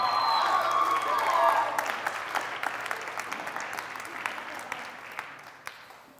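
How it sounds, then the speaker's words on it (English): Applause from a TEDx audience at Dacula High School, loud at first and gradually thinning out to scattered claps over several seconds. "stand up and give Mr. Samuel Wan a huge round of applause."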